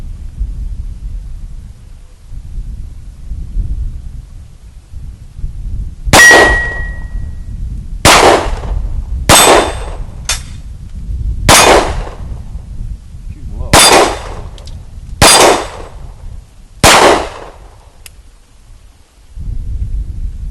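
Springfield XD-S pistol fired at steel targets, a torso plate and zombie-head plates: seven loud shots with metallic clangs, spaced roughly one to two seconds apart after a quiet start, each ringing briefly over outdoor rumble.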